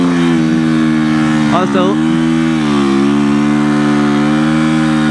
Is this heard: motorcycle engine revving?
yes